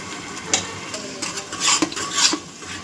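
A masala of garlic, coconut, ginger and coriander fried with onion for a vajdi recipe, with a spatula scraping and stirring in a few quick strokes over a light sizzle, close up and with no talk.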